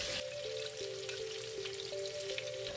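Leeks tossed into a hot pan with ginger and oil, frying with a steady close crackling sizzle throughout, no voices.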